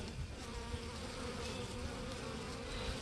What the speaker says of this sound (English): now have a package of bees that we're installing today